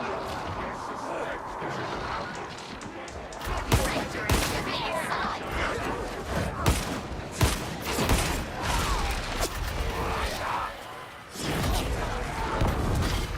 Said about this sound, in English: Somebody blew up the plague ogre.